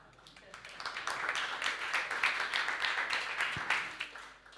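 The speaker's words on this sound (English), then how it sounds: "I'm glad you guys are clapping, though." A conference keynote audience at ETHBerlin breaking into applause, a crowd of many hands swelling into a sustained, moderately distant clatter that fades toward the end.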